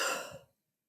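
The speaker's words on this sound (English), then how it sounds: "take a deep breath." A single deep exhale, breathy and close, lasting about half a second before trailing into silence.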